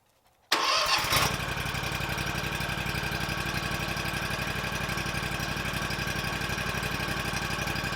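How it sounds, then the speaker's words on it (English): Car engine cranking after a brief quiet moment, then catching and settling into a steady, even idle during a home oil change, loud and close with no voices. "if you can hear me over this engine"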